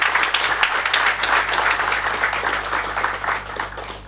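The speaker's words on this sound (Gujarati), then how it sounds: "જોરદાર તાળીઓથી વધાવીએ." An audience at an interactive session with a life coach gives warm, sustained applause, many hands clapping loudly and evenly for several seconds.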